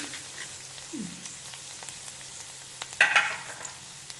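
Chopped onions frying and sizzling in hot oil in a pan, a steady soft crackle with a brief louder burst of stirring near the end.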